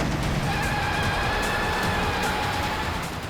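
A car driven fast and recklessly, its tyres squealing in a thin, wavering whine over a loud, steady engine and road roar that holds for the whole stretch.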